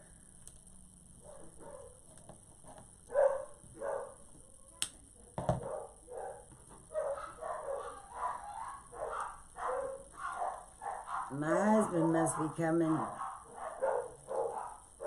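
Several household dogs, including a small Chihuahua, bark in excited repeated bursts that build toward a louder cluster near the end, while someone talks over them.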